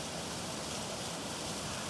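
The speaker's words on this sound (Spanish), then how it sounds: "Este es el río San Esteban." San Esteban river flowing past the bank at Quelepa, a steady broadband rush of moving water, fairly quiet and continuous with no voices over it.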